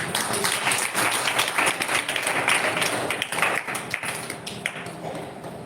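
A church congregation claps hands together in praise, a dense, steady patter of many hands filling the room at fairly close range, with no speech over it.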